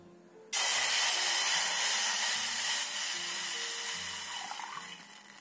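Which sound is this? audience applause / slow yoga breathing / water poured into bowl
water poured into bowl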